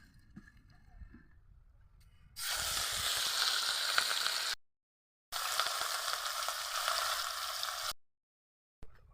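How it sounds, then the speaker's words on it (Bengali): Fish pieces frying in hot oil in a village kitchen, two loud bursts of close hissing sizzle that cut off abruptly, after a quiet start with faint background sounds. "দেখুন আমার সব মাছগুলো ভাজা হয়ে গেল।"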